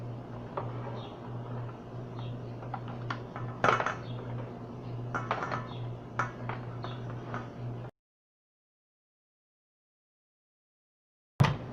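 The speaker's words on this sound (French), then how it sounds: "Donc on commence à battre les œufs avec le sucre." Eggs beaten with sugar in a bowl for an apricot clafoutis, a brisk stream of light clinks and taps from the whisk or fork against the bowl, close by, cutting out abruptly before one final knock.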